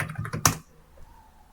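Several quick keystrokes on a computer keyboard, ending in one sharper, louder press, then near-silence; close and clear with no talking.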